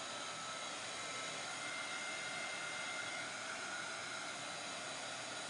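A hair dryer blows steadily at close range to dry blue chalk-paste paint on a rough wood craft piece, a continuous even airy whoosh throughout with no talk.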